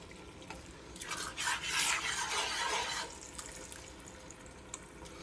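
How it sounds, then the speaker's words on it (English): Chili meat being stirred and mashed with the back of a spoon in a pot, a close scraping, squelching rub that swells for a couple of seconds and then settles into quieter stirring. "just take the back of your spoon and mash it up and keep stirring"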